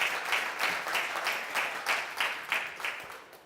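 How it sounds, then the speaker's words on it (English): An audience at a company leadership camp applauds, with clapping rising and falling in uneven waves of claps over a few seconds, fairly close and clear. "A round of applause for you."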